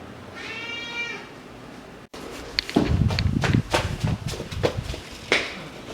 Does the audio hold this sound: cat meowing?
yes